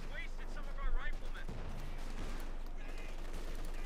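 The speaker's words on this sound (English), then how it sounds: "Gunning down the riflemen." Bursts of machine gun fire crackle in Company of Heroes 2, a short loud volley near the start followed by scattered battlefield shots, heard under a commentator's voice.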